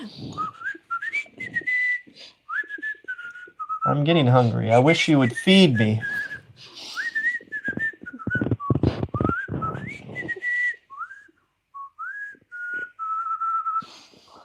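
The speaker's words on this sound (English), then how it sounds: "She's going to resort to whistling." A woman whistles a wavering, birdlike tune in a run of high pitched phrases, interrupted by a loud burst of talk and noise in the middle, with occasional spoken words under the whistling.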